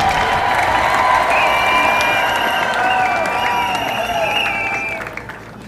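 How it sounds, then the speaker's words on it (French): A congregation at a golden jubilee parish Mass in Bandundu applauds and cheers to welcome a bishop, with dense sustained clapping, raised voices and high calls from the crowd that fade slightly toward the end. "Je voudrais que nous le saluions en l'applaudissant."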